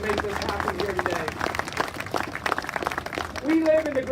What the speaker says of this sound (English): give them another round of applause for everything they've done to make this happen here today